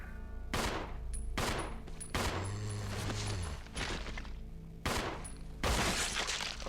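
Rapid bursts of gunfire from the Resident Evil 0 (2016 Remaster) video game, loud and close, several volleys separated by short gaps, with no voices over them.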